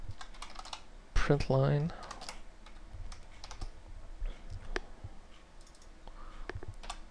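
Rapid clicking keystrokes on a computer keyboard, heard close and continuing in uneven bursts, with someone speaking briefly near the start.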